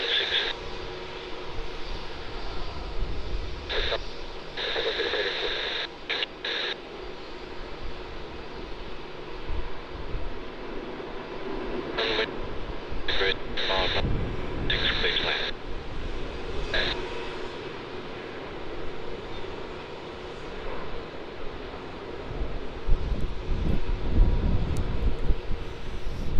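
An Airbus A350 at Melbourne Airport sounds as a distant, steady jet engine roar with wind buffeting the microphone, broken by intermittent bursts of radio-like noise.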